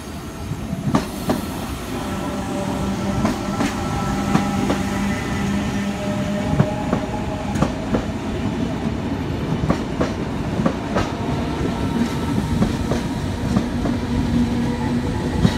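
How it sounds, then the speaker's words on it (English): A Sydney Trains passenger train rolls steadily through platform 2 at Redfern Station at close range, wheels clattering in a rhythmic clickety-clack over the rails with occasional squeals. "leading a train through platform number 2"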